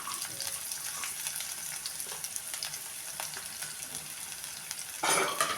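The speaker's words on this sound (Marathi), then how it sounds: "आपल्याला कांदा घालायचा आहे बारीक कट केलेला" Finely chopped onion sizzles in hot oil in a pan for a potato-shred stir-fry, a steady close crackle with stirring scrapes and a louder burst near the end.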